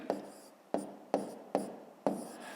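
Numbers being handwritten for a long-division sum: five short, scratchy strokes at uneven intervals, close and fairly crisp, with no talking.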